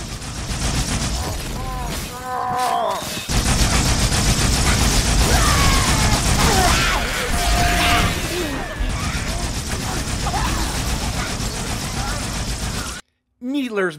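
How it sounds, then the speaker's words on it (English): Needler rounds detonating inside a target in Halo 2, a dense crackling burst of layered explosive pops and metallic rattles over steady game noise, with a short silence near the end. "if a target gets filled with enough needles, they explode"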